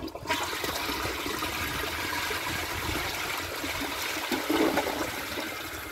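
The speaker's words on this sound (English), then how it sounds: "let's see if it can take a washcloth." A 2003 Eljer Patriot Comfort Height toilet flushes with a washcloth in the bowl, making one loud, sustained rushing swirl of water that starts abruptly close by and then drains off.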